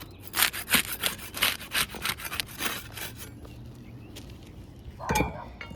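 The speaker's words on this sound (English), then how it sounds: "We use the putty knife to unseal that top shingle." A putty knife scrapes under the sealed edge of a top roof shingle in a series of quick rasping strokes for several seconds, then a single louder scrape follows after a pause.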